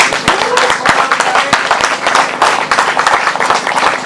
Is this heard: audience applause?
yes